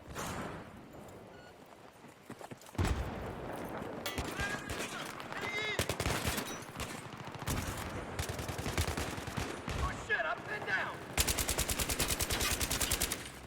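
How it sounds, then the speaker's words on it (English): Rapid bursts of video game gunfire crackle through a shooter match, with sharp repeated shots and fast volleys from about three seconds on, the densest firing near the end; a player's voice talks over the action. "Who was shooting me?"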